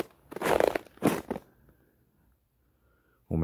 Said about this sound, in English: We'll make you listen to my crunching.